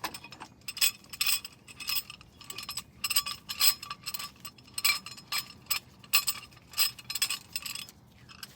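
C-clamp being tightened to compress brake caliper pistons on a 2011-2018 Dodge Ram pickup, giving a steady run of sharp metallic clicks and ratcheting ticks, close and fairly loud, with no talking.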